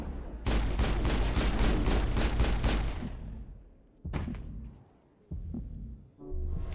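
Rapid gunfire from Mass Effect, a science-fiction shooter video game, fires in a fast rhythmic burst of about ten loud shots, then fades, followed by a few scattered separate impacts and thuds with no talk over it.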